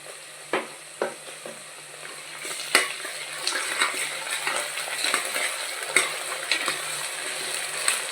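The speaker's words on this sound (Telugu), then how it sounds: "కొంచెం ఆనియన్స్ వేగాయి కదండి, ఇప్పుడు మనం అల్లం వెల్లుల్లి పేస్ట్ అనేది వేసుకోవాలి." Onions with ginger garlic paste frying in a pressure cooker for vegetable biryani, a steady soft sizzle with occasional clinks and stirring scrapes, close and moderately loud, no voices.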